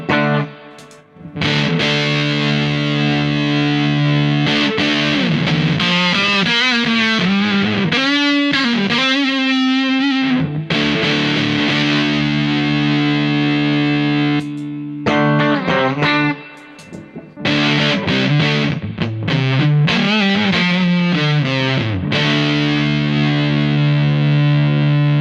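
Electric guitar played through a Big Muff fuzz pedal, thick sustained distorted chords and bending notes ringing loud and continuous, with a couple of short breaks between phrases.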